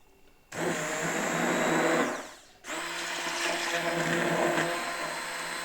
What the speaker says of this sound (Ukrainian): Беремо блендера.